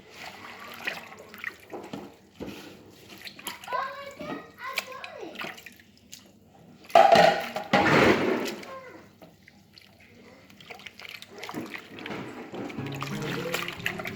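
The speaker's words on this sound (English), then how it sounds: "we are going to wash it properly before cutting it and then cooking" Leafy green vegetables are washed in water before cutting, with splashing and trickling of water in a basin or under a tap, loudest in a burst midway, while a person talks through much of it.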